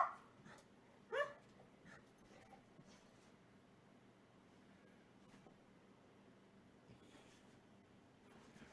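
Dogs at play give a couple of sharp yips and short barks early on, then a faint whine and scattered quieter yaps over low room noise, all fairly distant and soft.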